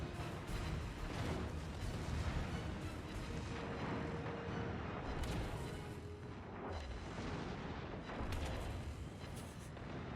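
Heavy naval gun salvos in a warship battle game, secondary batteries firing on an enemy ship, a continuous dense rumble of booms and blasts with repeated sharper cracks, loud and sustained without a pause.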